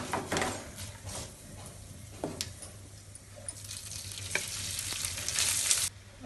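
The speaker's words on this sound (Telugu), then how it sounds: "రైస్ వేస్తాను." Cooked rice is tipped into a hot pan with chilies and sesame for nuvvula annam, then stir-fried: a soft sizzle under repeated scraping and clinking of a spoon against the pan, close and fairly quiet, no talk.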